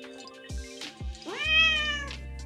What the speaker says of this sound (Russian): Маруся, мяукни.